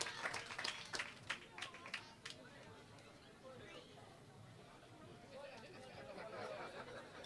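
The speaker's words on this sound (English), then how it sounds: "give her a big round of applause" An audience at a public Wi-Fi launch event in St. Ann's Bay claps in a burst of applause with crowd chatter, which fades into a low murmur of voices.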